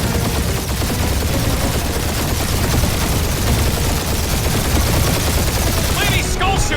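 A sustained gunfire barrage during a fight in a Guardians of the Galaxy game, dense and continuous, loud and close, with no pause across the whole stretch.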